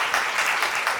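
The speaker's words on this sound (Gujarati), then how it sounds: "આપણે એને તાળીઓથી બિરદાવીએ" Applause from an audience at a community get-together of the Leuva Patidar Samaj in Navsari, a short burst of dense, even clapping that fills the hall.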